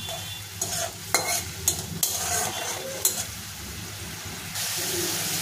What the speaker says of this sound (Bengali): একটু ভাজা ভাজা হয়ে গেলে পটল আলু দিয়ে দেবো